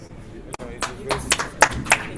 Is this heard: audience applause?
yes